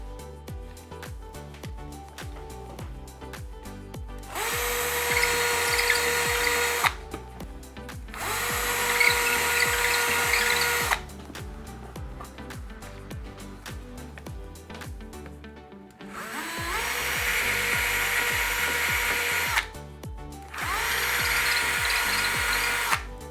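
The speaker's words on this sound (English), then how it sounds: "I've got my cordless drill all charged up and ready to go" A cordless drill whirs in four long bursts, grinding into a masonry wall, with quiet pauses between each run.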